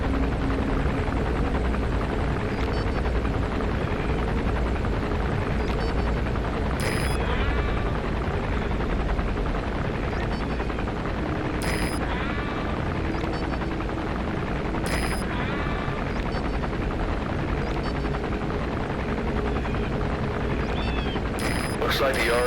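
The arms dealer's helicopter patrols overhead in MGSV: The Phantom Pain, its rotor making a steady, heavy drone throughout. Talk runs over it, with faint higher tones at intervals.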